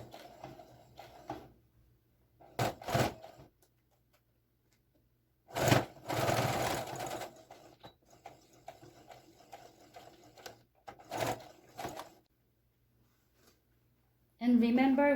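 A sewing machine stitches the front and back panels of a pom pom seat cushion in several short runs of whirring, close and moderately loud, with someone talking in the pauses between runs.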